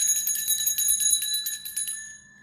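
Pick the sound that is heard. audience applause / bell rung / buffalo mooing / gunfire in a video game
bell rung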